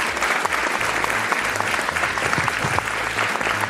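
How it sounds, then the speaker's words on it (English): A room full of people clapping steadily throughout, dense and continuous applause with no talking over it. "let's give a round of applause to Katie."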